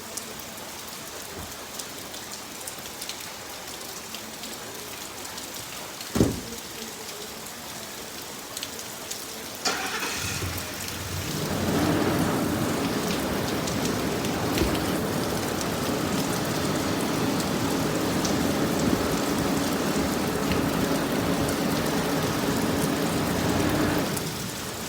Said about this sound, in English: Wow, you see, it's raining. It rains heavy,